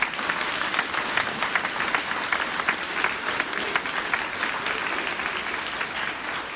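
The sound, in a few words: applause at school groundbreaking ceremony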